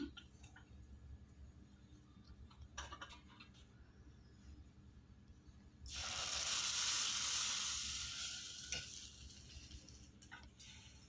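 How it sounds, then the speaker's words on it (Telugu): Quiet kitchen clatter, then a sudden loud hiss as hot oil and fried spices are poured into gongura dal, sizzling strongly before slowly fading. "ఇలా ఫ్రై అయిన పోపును పప్పులోకి అయితే వేసుకుంటున్నాను"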